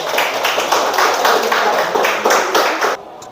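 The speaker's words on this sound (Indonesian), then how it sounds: "kita kasih tepuk tangan kepada kelompok" Classmates give a short burst of steady hand clapping for a student group after its presentation in an Indonesian teacher-training class, dense and close, stopping abruptly near the end.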